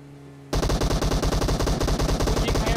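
Automatic gunfire in PUBG Mobile starts suddenly and rattles on loud and close in a rapid, even burst that lasts over two seconds.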